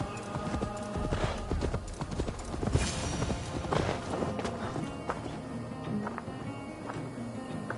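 Horse hooves clip-clopping in Assassin's Creed gameplay, a steady plodding rhythm of hoof strikes with occasional snorts and game ambience, fairly close and clear.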